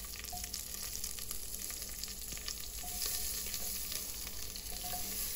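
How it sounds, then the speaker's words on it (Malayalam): Sliced onion and potato frying in coconut oil with mustard seeds and curry leaves, a constant close sizzle with faint popping and stirring, no voices. "കടുകും കറിവേപ്പില ഇട്ടിട്ട് ഈ ഉള്ളിയും ഉരുളക്കിഴങ്ങും കൂടെ അതിലേക്ക് ഇടുകയാണ് ചെയ്യുന്നത്."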